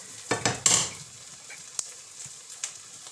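Egg frying in a pan with sizzling and a few sharp scrapes and clinks of a utensil, loudest early and then settling into a faint ongoing sizzle.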